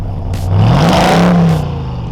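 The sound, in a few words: 2022 RAM 1500 TRX truck engine starting and revving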